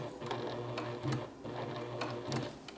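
Juki Haruka TL-18QVP sewing machine running in short stitching bursts, a steady mechanical whir with rhythmic needle ticks that rise and pause every second or so, close and moderately loud with no talking.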